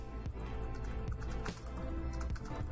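Fingers type on a computer keyboard in quick, irregular runs of close, crisp key clicks with a few louder taps, and no one speaks.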